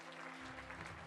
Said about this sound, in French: Tout le monde l'applaudit